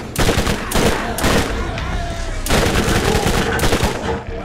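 Rapid bursts of gunfire in the video game Borderlands, loud, close and repeated in clustered volleys.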